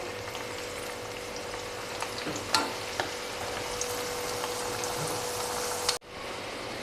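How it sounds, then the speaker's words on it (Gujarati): Fenugreek methi muthia dumplings fry in hot oil, giving a steady close sizzle with a few sharp pops and stirring clinks, then cutting off abruptly near the end. "પાપડી, મેથીની મૂઠડી બનાવેલી, તેને પણ આપણે તળી લેશું"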